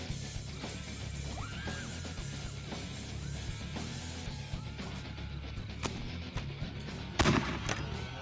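Napalm launcher bombs go off in Postal 2 amid a busy, fairly quiet background of crackling bursts, with a sharper, louder blast near the end and faint whistling tones earlier.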